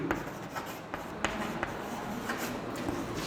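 A pen writing out a speed and time equation on paper, a continuous close scratching with small taps between strokes, quiet and steady for a few seconds.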